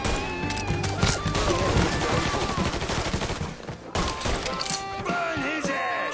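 Rapid gunfire in the video game Mafia 3, dense bursts of shots and impacts running throughout amid a loud, busy game mix with a short lull near four seconds.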